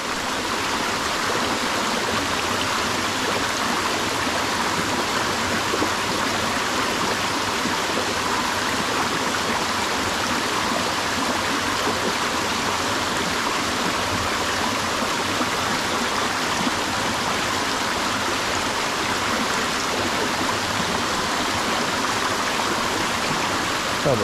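Buderim Falls pours in a constant, full rush of water that stays even and close throughout, with no voices or other sounds over the flow.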